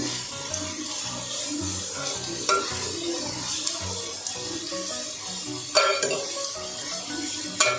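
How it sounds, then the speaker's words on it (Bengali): Onions frying in hot oil in a pan are stirred often, giving a soft sizzle broken by intermittent utensil scrapes and clatters, close and fairly quiet with no speech. "লাল করে ভেজে নেব পেঁয়াজগুলোকে।"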